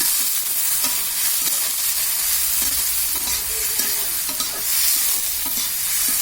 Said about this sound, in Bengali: এরপর সুন্দর করে নেড়ে নেব